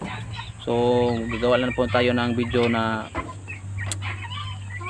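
Chickens cluck and squawk in repeated bursts on a poultry farm, close and fairly loud, as someone talks over them.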